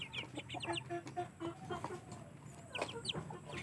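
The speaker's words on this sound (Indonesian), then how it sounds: "Ayam kita mau review yang kecil nih" Two-month-old Aseel Parrot chicks, four cockerels and a hen, clucking and peeping in a busy, overlapping chatter, fairly close and steady throughout.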